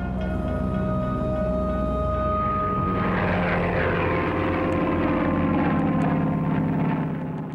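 Aichi D3A1 two-seat Japanese Navy dive bomber with a Mitsubishi Kinsei 44 radial engine, a loud sustained propeller drone that thickens and roughens midway as the aircraft passes close, steady throughout with no talk.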